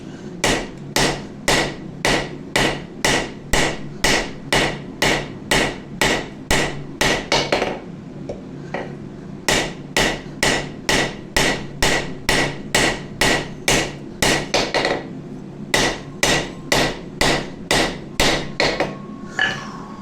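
A hammer strikes a steel Santoku chef knife blade being forged, over and over in a fast, steady rhythm, sharp ringing blows up close, pausing briefly once before the pounding resumes.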